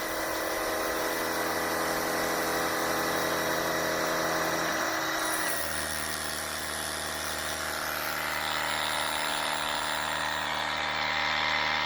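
A steady mechanical whir of a cordless pressure washer running continuously on straight spray, with a shift in pitch partway through as it primes and the spray settles.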